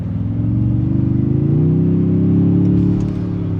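The engine of a Toyota Tundra TRD Pro hums loud and steady under partial throttle, a deep, even drone that rises slightly in pitch partway through before levelling off, heard from inside the truck.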